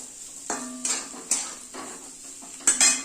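Potatoes being stirred and fried in a pan with already-fried chillies. A utensil clinks and scrapes against the pan in a few separate strokes over a faint background sizzle, with no voices.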